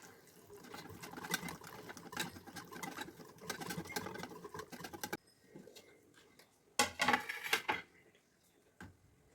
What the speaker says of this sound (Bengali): এবার সমস্তটা ভালো করে মিশিয়ে নেব, যাতে দইয়ের মধ্যে কোনো লাম্পস না থাকে